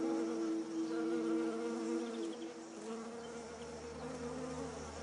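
Honeybees buzzing around a colony, a close, continuous droning hum with layered wingbeat tones that waver slightly in pitch, loud at first and easing a little toward the end, with no talking.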